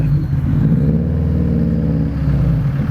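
A Subaru Impreza engine revs loudly and steadily up close, a throaty mid-pitched roar that holds and swells without pause.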